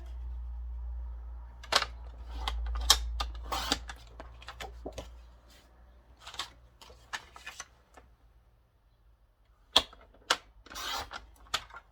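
A 30 by 30 sheet of paper being cut for a handmade album, heard as quiet, crisp snips in irregular bursts with pauses between them over a low background hum.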